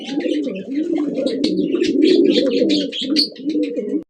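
Pigeons for sale coo loudly and continuously close by, a dense, throbbing low murmur of overlapping calls with brighter chirps and flutters above it, ending abruptly.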